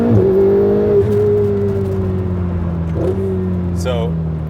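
A Ferrari 488 engine pulls at half throttle, a loud steady drone that slowly falls in pitch, with a brief shift-like dip partway through and wind noise in the cabin.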